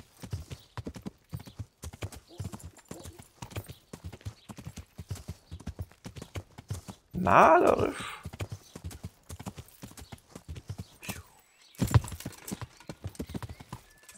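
Steady clip-clop of horse hooves walking at an even pace in the video game Kingdom Come: Deliverance, close and clear, with a brief snort or whinny midway and someone talking over it.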